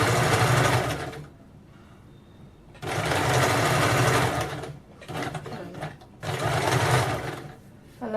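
A sewing machine stitches piping around a curved back neckline in three loud bursts of steady motor whir, separated by short pauses when the presser foot is lifted.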